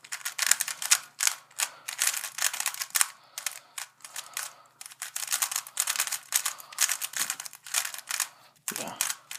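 Moyu Tanglong speed cube turned in quick bursts, producing rapid, sharp plastic clacks in dense clusters with brief pauses, close and fairly loud.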